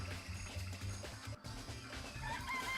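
Chickens cluck softly in the video game Danganronpa, quiet repeated fowl calls over a low background.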